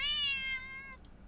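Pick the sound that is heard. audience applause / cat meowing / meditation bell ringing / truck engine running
cat meowing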